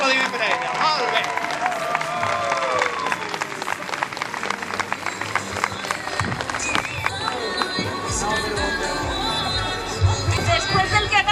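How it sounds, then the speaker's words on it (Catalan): A crowd at a school graduation ceremony at IES Ramón Cid in Benicarló applauds the school director, sustained clapping with cheers and chatter, while a speaker's voice carries over the start. "Un fort aplaudiment per a ella"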